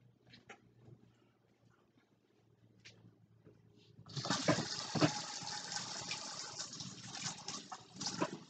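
Running tap water rinses zucchini in a small kitchen, a steady gushing flow that starts partway through and continues loud and close to the end, after a few quiet clinks and handling sounds.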